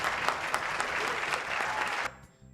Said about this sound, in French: Applaudissements pour tous les deux.